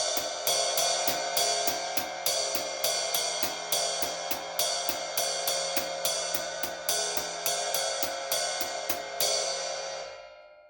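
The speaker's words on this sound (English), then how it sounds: "we're going to put the right hand on the ride cymbal, left hand on the hi-hat." A drum kit groove with steady ride cymbal strokes in one hand and hi-hat in the other, an even, bright metallic pattern ringing clearly throughout a beginner paradiddle exercise, then fading at the end.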